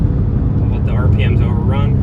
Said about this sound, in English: So let's do a little blip downshift.